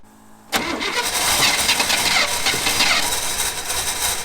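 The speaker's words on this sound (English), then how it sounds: "I'm gonna go crank on it now and we'll see if it starts" An old Chevy truck engine cranks briefly and catches at once, settling into a loud, rough, close-up running rumble.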